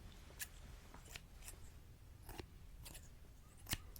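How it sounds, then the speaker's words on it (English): A pair of scissors snips in sharp, crisp cuts at an irregular pace, close to the microphone and quiet, during a calm ASMR session with no talking. "So I have these pair of scissors."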